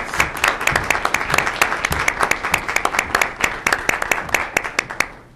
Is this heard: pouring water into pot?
no